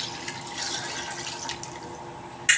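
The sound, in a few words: pouring water into pot for rice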